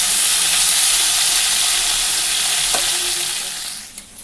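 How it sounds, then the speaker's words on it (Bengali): Pointed gourd, teasel gourd and bitter gourd, rubbed with salt and turmeric, sizzle steadily together in hot oil in a pan, a loud continuous fry with a faint clink midway before fading toward the end. "পটল কাঁকরোল করলা ধুয়ে একসঙ্গে নুন হলুদ মাখিয়ে একসঙ্গে বসিয়ে দিয়েছি"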